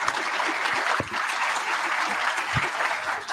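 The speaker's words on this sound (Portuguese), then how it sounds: "palmas para ele" Steady applause from an audience at a management talk, many hands clapping at once in a dense, even patter that continues throughout.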